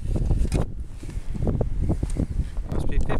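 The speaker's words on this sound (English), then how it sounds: "Must be 50 mile an hour wind gusts here." Heavy, blustery wind gusting around 50 miles per hour buffets the microphone with a low rumbling roar, rising and falling in gusts while someone speaks underneath.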